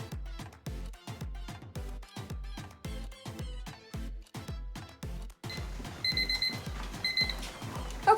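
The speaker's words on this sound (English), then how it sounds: "now our timer has gone off" A kitchen timer goes off during blackberry jam canning, a rapid, repeating electronic beeping in steady bursts, fairly close and moderately loud, with a few higher chiming tones near the end and no one talking.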